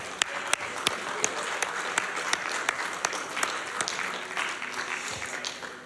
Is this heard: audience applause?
yes